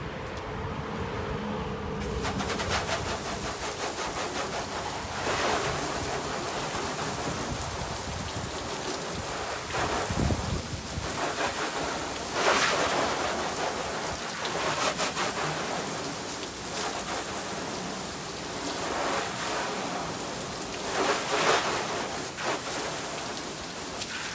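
Water from a hose rinses steadily down a car freshly coated with Meguiar's Hybrid Ceramic Wax and Hydrosilex Recharge, making a continuous close splashing wash with brief surges, and no one speaks over it.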